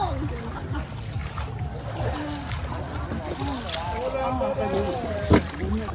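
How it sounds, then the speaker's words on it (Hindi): Round basket boats spin rapidly on the water in Vietnam, with steady sloshing and splashing under continuous talk and a sharp knock near the end. "यहाँ के नाविक इन नावों को पानी के बीचों बीच बहुत तेजी से गोल गोल घुमाते हैं, जिसे बास्केट बोट डांस कहा जाता है।"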